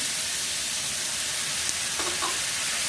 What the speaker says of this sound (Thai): ผัดให้หมูสุกก่อนนะคะ ตอนนี้แม่จะเติมน้ำนิดหน่อยนะ